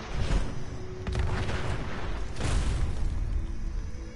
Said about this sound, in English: I'm looking at explosions